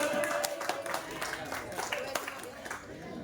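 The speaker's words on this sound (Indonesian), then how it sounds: "Boleh tepuk tangannya dong." A group claps in steady, dense applause for a few seconds, with voices mixed in underneath.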